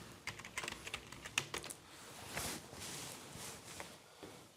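Quick, uneven keystrokes on a computer keyboard as a password is typed for a login on a lab system, with clustered taps close by and brief pauses between bursts.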